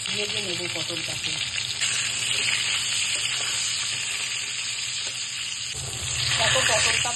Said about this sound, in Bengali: ভেজে নেব পটলটাকে।